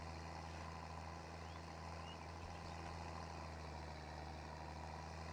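A tractor engine runs in Farming Simulator 22, a steady low idle-like drone with a constant hum, unbroken and moderately quiet throughout.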